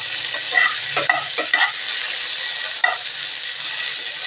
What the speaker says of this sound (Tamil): அனல் கம்மியாக வச்சு இதை நல்லா வதக்கிக்கலாங்க.